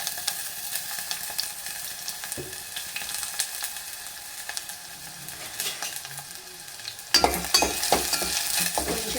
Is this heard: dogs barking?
no